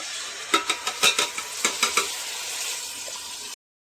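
A spoon stirs chicken curry masala with tomato puree and coriander-mint paste in a pan, making a quick run of rhythmic scrapes and clinks over sizzling. Then only a steady sizzle remains before an abrupt cutoff.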